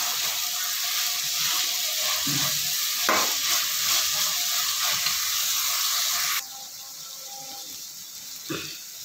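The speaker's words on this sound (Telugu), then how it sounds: "మొలకలు అయితే వేసేసుకున్నా ఫ్రెండ్స్" Moong bean sprouts go into a hot pan for curry and sizzle loudly with a steady frying hiss. The hiss drops suddenly to a quieter sizzle near the end, and brief stirring clatters break through.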